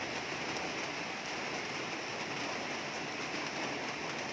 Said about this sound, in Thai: ฝนตกฟ้าห้อง บ่ได้ออกนอกบ้าน